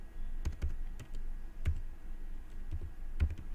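Scattered computer keyboard keystrokes click close by as a school report sheet is typed in Microsoft Excel, each press distinct and sharp with uneven pauses between, over a faint steady hum and no talking.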